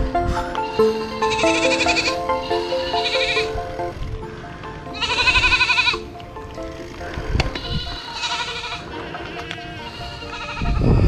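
Several goats bleat in repeated, loud calls that come in bursts with short gaps, outdoors on a farm stop during a bike tour.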